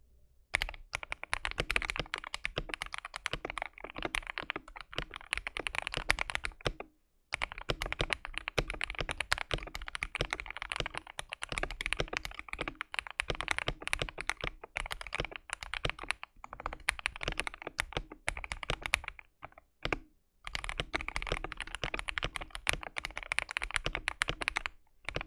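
Modded KBD67 Lite mechanical keyboard typed on steadily, giving dense runs of crisp clacky keystrokes broken by a few short pauses, close up with no voices.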